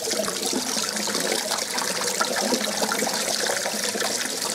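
Running water from a tap trickles and splashes steadily over a burned arm, a continuous close hiss with no talking.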